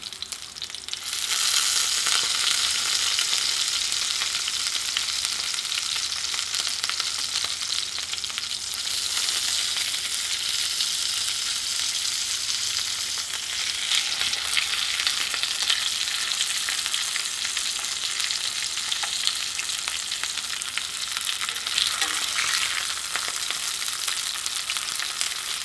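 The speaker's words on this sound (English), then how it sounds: "we want to stand our steaks up on the edge and get a little sear on our" Steaks stand on their edges in a hot pan and sear with a loud, continuous sizzle and crackle that holds steady throughout, close and unbroken, with no voices.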